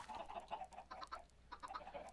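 Chickens cluck in a quick, repeated stream of short calls at moderate volume in the Minecraft GT New Horizons modpack, near a golem-run automated farm, with no talk over them.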